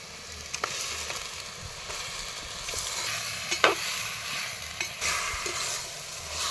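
Chopped country chicken pieces are stir-fried in a pan: soft continuous sizzling under repeated scraping strokes of a spoon, with a few sharper clinks, fairly quiet and close. No voices.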